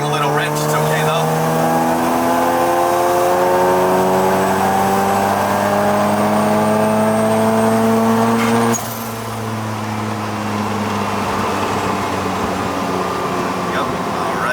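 A single-turbo Mazda RX7 rotary engine running rich on a forest mountain road, a loud, steady engine drone whose pitch climbs gradually, then drops off and eases into a lower steady note.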